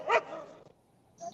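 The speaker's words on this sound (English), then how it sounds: "Because there's another doggy coming." A dog gives one short, close yip-like bark and then a faint whimper, with no talking.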